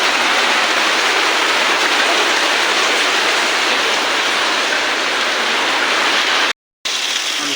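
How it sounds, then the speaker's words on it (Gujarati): Heavy rain pours onto a street as it floods, a dense, loud, unbroken hiss and patter heard close by, with one brief cut near the end; no talking. "જોઈ લો ભાઈ વરસાદ આવી ગયો."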